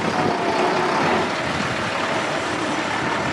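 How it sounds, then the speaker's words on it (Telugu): Trucks and cars stuck in a traffic jam fill the scene with a steady, close, broadband road roar and low engine rumble, with no clear gaps or individual passes. "మళ్ళీ అయిపోయింది ట్రాఫిక్ జామ్."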